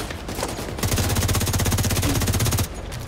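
Automated turret fire in The Division 2 shooter game: a loud, rapid machine-gun burst lasting about two seconds, with steady evenly spaced shots, preceded and followed by softer game noise.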